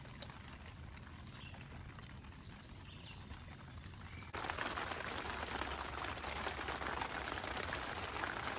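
Steady rain falls at a remote lakeside campsite, a dense continuous hiss that grows noticeably heavier and louder about halfway through, with no talking.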